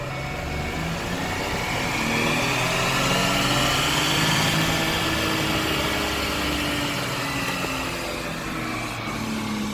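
A tuned 2018 Ford F-150 with a 2.7 EcoBoost engine and 10R80 transmission roars steadily under load on a dyno in fifth gear, a loud sustained drone with rising pitch across the whole run.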